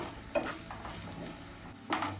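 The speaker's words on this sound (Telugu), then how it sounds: "పోపులో మినపప్పు, ఆవాలు, ఎండుమిరపకాయ, వెల్లుల్లిపాయ వేగుతున్నాయండి" A soft, steady sizzle of urad dal, mustard seeds, dried red chilies and garlic frying in hot oil, with a couple of brief stirring clinks near the start and end.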